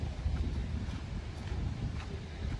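Strong gusty wind sweeps through a park near a large tree, a steady low roar of buffeting air on the microphone that persists throughout with no voices.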